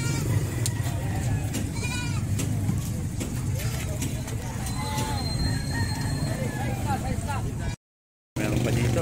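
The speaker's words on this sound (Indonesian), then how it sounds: "dami pa dito ang kambing" Goats bleating on a farm pen where goats are sold, several calls rising over a constant low rumble, with people talking nearby and a brief dropout near the end.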